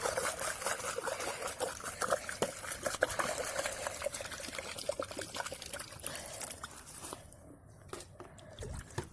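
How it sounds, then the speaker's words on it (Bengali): Water from a bucket is poured onto onion plants outdoors, a soft, irregular trickling and splashing with scattered small taps, fairly quiet and close, fading toward the end, with no voices. "পেঁয়াজ গাছে জল দিয়ে দিই ভালো করে"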